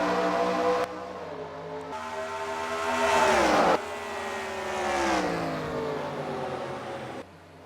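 Race cars in NASCAR Racing 2003 roar off at the green flag on the Long Island road course, a dense field of engines revving and accelerating together, swelling and shifting pitch over several seconds with no talk.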